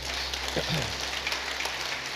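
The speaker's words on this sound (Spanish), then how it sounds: "Fuerte aplauso al Señor" Church congregation applauding during a Spanish-language sermon service, a dense wash of clapping filling the room at steady loudness throughout, with a faint voice briefly audible early on.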